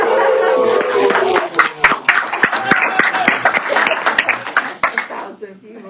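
A packed room of about a thousand people applauding, dense clapping loud and close, with voices mixed in over a steady wash of crowd noise.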